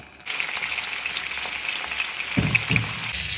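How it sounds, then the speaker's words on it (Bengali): Pointed gourd fries in oil in a pan, giving a steady, close sizzle from start to finish, with a few soft knocks of stirring near the end. "এতে তেল দিয়ে দেওয়া হলো, পটলগুলো ভালো করে ভেজে নেওয়া হচ্ছে।"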